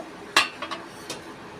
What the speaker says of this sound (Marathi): मी आता झाकण ठेवते शिजेपर्यंत